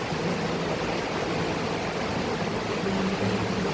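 Heavy rain during Storm Uwan in Laguna, Philippines, pouring and dripping steadily as a dense, continuous hiss with no pauses, fairly loud and close, with no voices.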